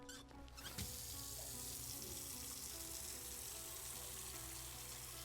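Water running into a container in the Autopsy Simulator game, a steady faint gushing stream after a short start, continuous and even, with no talk.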